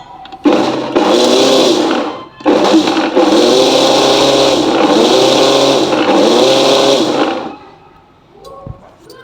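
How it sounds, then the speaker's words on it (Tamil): An electric mixer grinder blends coconut, ginger and garlic into a paste in a home kitchen for crab gravy, giving a loud, steady whirring drone in several bursts, broken by short pauses, then winding down near the end. "இப்போ நம்ம இதை பேஸ்ட்டாக அரைக்க போகிறோம்."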